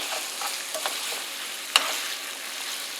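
Beef browns in a frying pan with a soft, even sizzle and a few light scrapes, plus one sharp knock or tap partway through, heard up close with no talking.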